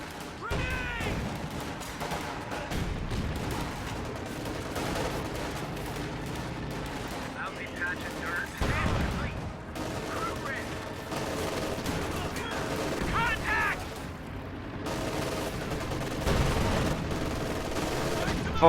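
Bursts of machine gun and rifle fire crackle through a WWII strategy video game battle between Thompson-armed paratroopers and Grenadiers, with repeated volleys and explosions and a commentator talking throughout.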